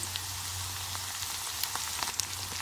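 Chopped onion, rampe and curry leaves fry in hot oil for a potato tempering, a steady close sizzle and crackle with a few sharper pops, and no voices.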